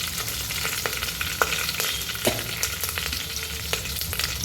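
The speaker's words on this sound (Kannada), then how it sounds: "ಫ್ರೈ ಆಗ್ತಾಯಿದೆ." Vegetables and curry leaves fry in oil in a pan for a vegetable sambar, with a close, constant crackling sizzle dotted with small pops and stirring taps.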